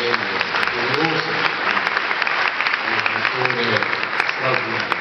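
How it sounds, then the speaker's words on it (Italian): Audience applause at a film festival, the BIF&ST in Bari: steady, dense clapping from a sizeable crowd that keeps up for the full stretch, with a few voices mixed in underneath. "ecco, un applauso a Elio"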